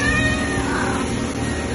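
Cats in a house fitted with catwalks for two dozen adopted cats meow and yowl in a drawn-out, wavering cry, fairly loud and close, with no talk over it.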